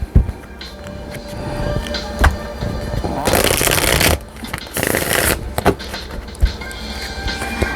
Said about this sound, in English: So let's look into some money cards.